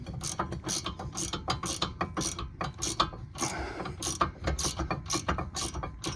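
A ratchet loosens the lower brake bracket bolt on a 2019 Ford Fusion Hybrid during a rear rotor and brake job, with a rapid series of close, sharp clicking strokes in uneven bursts.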